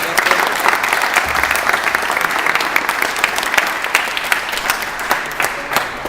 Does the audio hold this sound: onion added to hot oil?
no